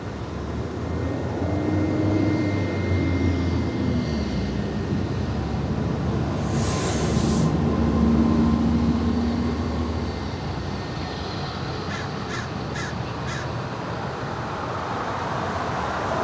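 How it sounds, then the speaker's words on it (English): An American Airlines Airbus A321 jet landing at LAX produces a continuous jet roar with a low whine that swells and fades, moderately loud, alone without talk. "Coming in from Charlotte, this is American Airlines flight 1674 on this A321."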